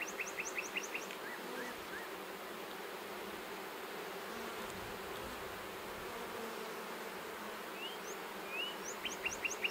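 Honey bees hum in a steady, faint drone around an open hive while its brood frames are lifted and inspected, with brief bird chirps breaking in at the start and end.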